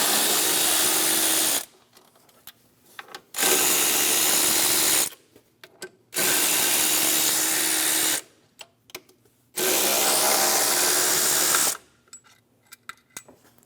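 An 8mm socket on a power tool spins out throttle body bolts on a 2021-2025 Jeep Grand Cherokee 3.6L. Four loud, steady whirring runs of about two seconds each are separated by short gaps filled with small metallic clicks.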